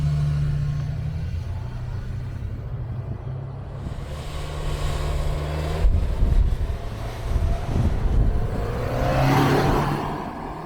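Turbocharged Subaru Outback Touring XT wagon accelerating hard from a standstill toward 60 mph, heard from inside the cabin: a rising engine drone with wind and road roar swelling, loud and close, with no talk.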